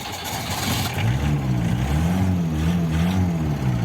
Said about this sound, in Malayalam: വണ്ടി സ്റ്റാർട്ടായിട്ടുണ്ട്.